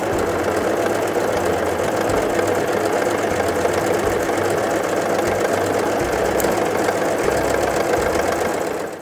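A Brother CV3550 coverstitch machine runs a triple coverstitch with three needles and a looper thread, a steady close mechanical whirr with a fast rhythmic knock that carries on without pause for the whole stretch, no voices.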